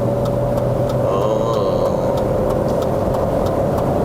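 A BMW E39 523i with an automatic gearbox accelerating, heard from inside the cabin as a steady, moderately loud engine drone with slight shifts in pitch and no talking.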